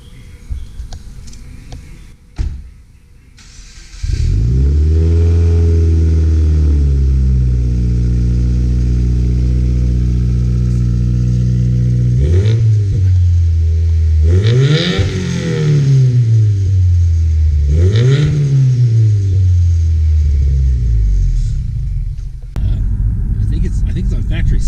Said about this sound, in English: Get the first startup of the straight piped Subaru WRX.